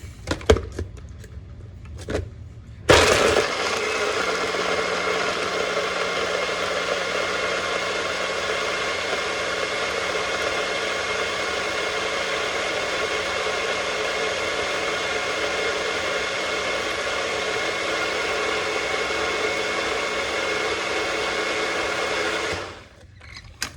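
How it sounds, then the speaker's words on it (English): A countertop blender whirs steadily for about twenty seconds, blending a kale smoothie, a loud constant motor drone that starts abruptly after a few faint handling knocks and cuts off at the end. "Put your blender top on."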